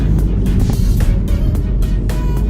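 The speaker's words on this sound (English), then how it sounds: "This is really about to be a 5-minute Sunday video of me driving." Steady, loud car interior rumble while driving on a Sunday, a continuous low drone of engine and road noise with no speech.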